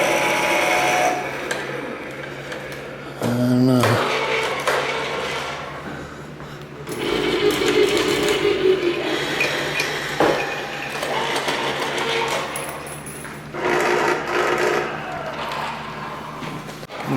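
The Can Opener Keyboard gallery artwork being played: a mix of whirring, mechanical motor buzzes and clattering bursts that start and stop unevenly, with brief tonal blips, gallery ambience and a short spoken remark.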